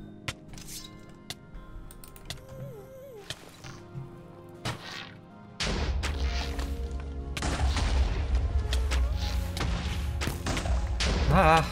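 Explosions in the Minecraft video game, with thuds and bursts early on, then a sustained loud crackling roar of blasts that builds toward the end, without talking.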